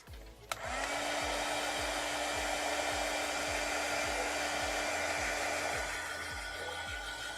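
A hair dryer blows steadily on a freshly painted strawberry, switching on with a click and then running as a loud, continuous whirring blast with a low pulsing hum underneath.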